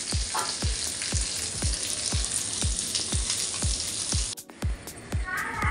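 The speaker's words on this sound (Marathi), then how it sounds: "आता थोडं मी त्यामध्ये तेल ॲड केलं आहे आणि आता कोलंबी बी फ्राय करून घेते." Prawns frying in hot oil in a pan: a loud, steady close sizzle with regular soft knocks, a brief dip near the end, then the hiss resumes.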